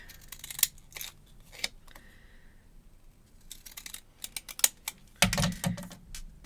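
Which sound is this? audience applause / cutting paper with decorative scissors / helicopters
cutting paper with decorative scissors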